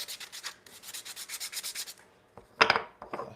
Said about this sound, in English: Maybe I'll sand it a little bit more.